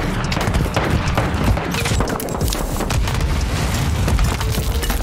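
A grenade explodes in Call of Duty Warzone 2.0 amid a dense, loud barrage of booming blasts and rapid crackling gunfire, with no speech.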